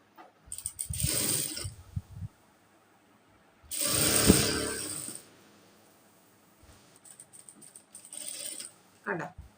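A sewing machine stitches pant fabric in two clear bursts of rapid mechanical clatter separated by quiet pauses, with lighter handling clicks and rattles between and at the end.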